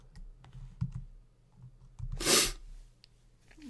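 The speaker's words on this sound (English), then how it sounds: "I'm absolutely sneezing like crazy" One loud, sharp sneeze bursts out close by, among quiet clicks and breaths from someone working at a computer.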